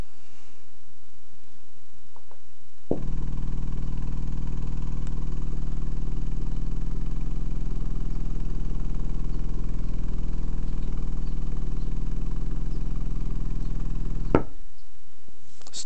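An Atomic APXX 18-inch subwoofer running free air off a small amp on a 20 Hz test tone makes a loud, steady, buzzing drone with rattly overtones that starts abruptly after a few seconds of quiet and cuts off sharply near the end.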